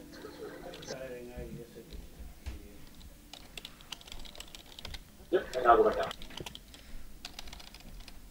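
Computer keyboard typing during a Minecraft gaming session, a steady patter of fast key clicks running under casual talk, with a louder burst of sound midway.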